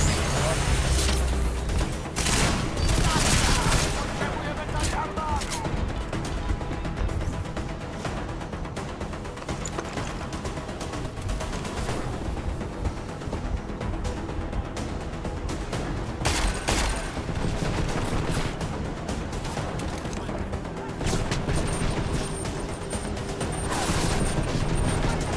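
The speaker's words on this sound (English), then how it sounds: "First firefight of the day." Firefight in the video game Deus Ex: Mankind Divided, with dense bursts of gunshots and impacts, loudest early on, continuing in irregular volleys over game ambience throughout.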